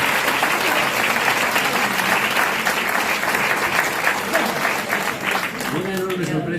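A seated audience at a book presentation about Cacín claps in loud, sustained applause that thins toward the end as a voice comes in.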